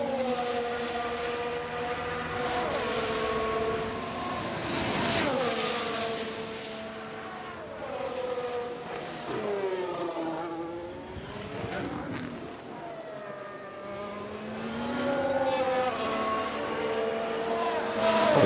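Formula 1 race cars in F1 Manager 23 at the Las Vegas circuit howl past in a loud, unbroken stream, their engine pitch sweeping up and down as each car approaches and passes.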